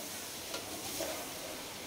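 Steady hiss and sizzle of fish frying in hot oil, with a couple of faint clinks, continuous and fairly close.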